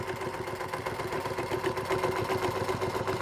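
A Singer Featherweight sewing machine stitches a quilting channel with ruler work, giving a steady, fast mechanical whir with rapid regular needle ticks, close and continuous throughout.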